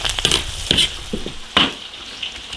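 Beef and beef tendon stir-fry over low heat in an iron wok with chili, Sichuan peppercorns and spices, sizzling loudly under repeated scraping and clanking spatula strokes.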